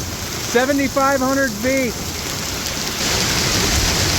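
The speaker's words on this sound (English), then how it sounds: "Although it might look like this is water, it's actually little chunks of hail" Small chunks of hail fall steadily in a spring storm, a dense, continuous hiss and patter on the ground outdoors; a voice speaks briefly over the rattling early on, and the clatter carries on alone afterward.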